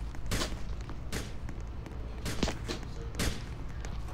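Drum gun fire in the Roblox game Da Hood, several sharp separate shots spread across a few seconds over a steady low background hum.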